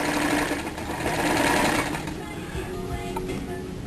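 A sewing machine runs steadily, straight-stitching elastic onto swimwear fabric, with a close, continuous rapid mechanical whir.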